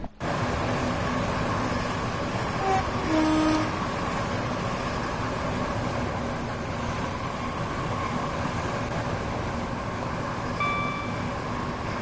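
Class 465 electric train, units 465-915 and 465-901, coasting in Train Sim World 2 with a steady, loud cab rumble and hum throughout, a few faint tones rising briefly above it.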